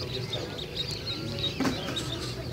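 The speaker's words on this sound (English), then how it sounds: "looking at little chicks and rabbits and ducklings" Chicks and ducklings at a ranch, a stream of faint high peeps and chirps with a soft cluck, heard over low background noise.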